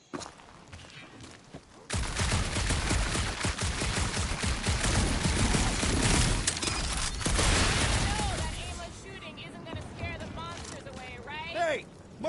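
Gunfire in a PS4 video game rattles as a long, dense fusillade of rapid shots for several seconds, loud and close, then fades into quieter game sounds and voices.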